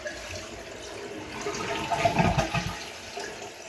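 A water-saver toilet flushes with a swelling rush of water that peaks and then drains away into a quieter gurgle; no voices.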